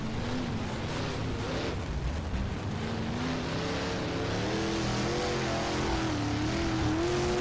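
Dirt modified race cars in rFactor 2 roar around a dirt oval, one engine close and loud, its pitch rising and falling as it revs through the corners over a constant drone from the rest of the field.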